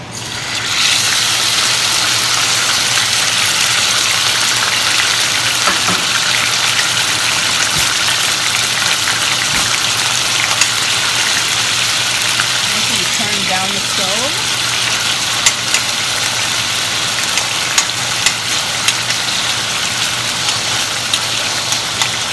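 Tomatoes, onions and pepper fry on a hot stove for a Jamaican ackee and saltfish dish, giving a loud, steady hiss that runs unbroken from start to finish.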